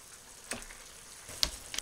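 Fish laid into a hot skillet for a seafood stew, a quiet steady sizzle with a few short sharp crackles near the end, faint and close.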